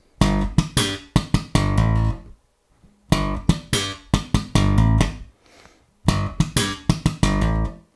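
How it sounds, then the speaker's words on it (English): Slap bass riff played in three repeated phrases, each a punchy slapped G followed by a hammer-on to A and quick percussive notes, clean and close with short silences between runs. "So slap the G and then hammer-on to the A."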